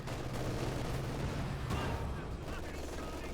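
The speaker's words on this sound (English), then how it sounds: "Still Churchill tank getting absolutely pummeled by pack fire here" Gunfire from Company of Heroes 2 pummels a Churchill tank in a continuous barrage of dense, rumbling shots and booms under a commentator's voice.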